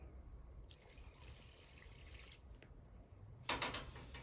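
Broth trickles and splashes softly as it is poured little by little into Maseca corn flour dough, with a brief louder splash near the end.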